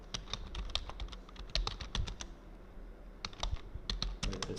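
Brisk typing on a computer keyboard while writing Python code, a dense run of close, crisp key clicks in uneven bursts with short pauses, no voices.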